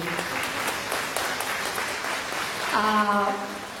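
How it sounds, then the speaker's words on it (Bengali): An audience at a Bengali poetry recitation workshop applauds a student, a sustained burst of clapping from a roomful of people, with a voice starting to speak near the end. "ওর জন্য একটা করতালি"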